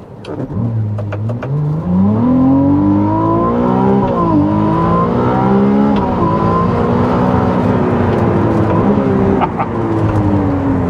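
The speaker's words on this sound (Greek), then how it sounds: "ο ήχος της Ferrari είναι αυτός" A Ferrari 296 GTB hybrid sports car engine revs hard and climbs through gears, its loud, rising roar close by and continuous, with brief drops between shifts.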